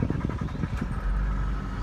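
The engine of a 2014 Toyota Landcruiser is started up close: a brief cranking rumble settles into a steady, loud low idle.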